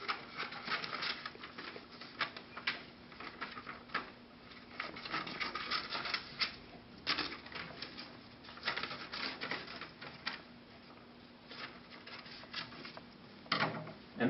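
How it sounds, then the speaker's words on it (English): A small handsaw, likely a jeweler's or coping saw, cutting out an ellipse shape: quiet, rapid rasping strokes in an irregular patter, pausing briefly now and then, close and without talking. "come on over and cut out your ellipse shape."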